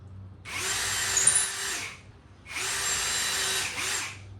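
A power drill whirs in two bursts of about one and a half seconds each, drilling pilot holes into a wooden 2x4, spinning up and winding down with a steady high-pitched motor whine.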